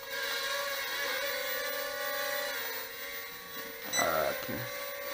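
A JJRC JJ-1000 drone hovers at about half throttle, giving a steady, close whine with shifting pitch and a brief louder surge near the end.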